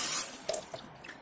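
Tap water runs briefly over an aloe leaf in a homemade preparation, a short soft splash and trickle with a couple of small drips, close and fairly quiet.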